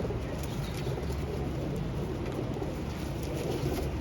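Pigeons coo softly on a rooftop loft, their low burbling calls steady and close amid a faint outdoor hiss, with no voices.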